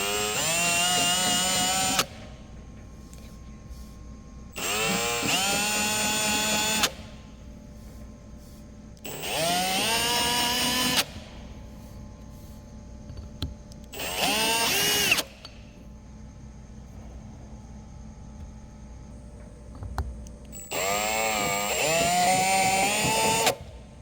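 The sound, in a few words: battery drill with indexable chamfering tool chamfering holes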